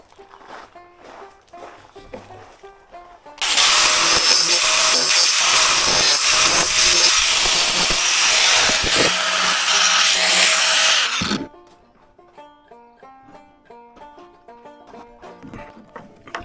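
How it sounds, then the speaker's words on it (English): An angle grinder works around the fiberglass of a Boston Whaler hull, loud and continuous for about eight seconds, with quieter clatter and rhythmic tones before and after it. "Hard to grind around fiberglass without getting into the fiberglass."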